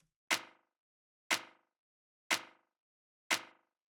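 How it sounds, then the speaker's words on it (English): Layered clap and rim shot snare sample for minimal house drums, struck four times at an even one-per-second pace, each hit bright and sharp with a short decaying tail, alone against silence. "the clap / rim shot / snare, whatever you want to call it, but it sounds like this."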